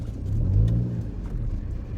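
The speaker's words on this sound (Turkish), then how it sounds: "Hızlı gelen araba var." A fast car nears on the road with a loud, close engine rumble that swells and then holds steady as it passes.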